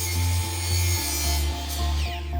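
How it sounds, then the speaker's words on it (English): Wooden window trim being cut by installers during interior window finishing, a steady rhythmic sawing stroke repeating about every half second, close and fairly loud with a rasping, rubbing texture and no talk. "Our installers measure and cut the trim to finish the interior look of the window."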